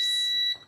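A high, steady electronic beep from an air fryer rings out once, holding for about half a second before cutting off, loud and close with no talking.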